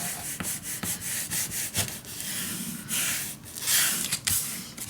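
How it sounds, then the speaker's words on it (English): A bone folder rubs and burnishes paper down onto a folio cover, giving a dry, steady scraping and hissing friction close up, in uneven strokes with no voice. "And burnish that down."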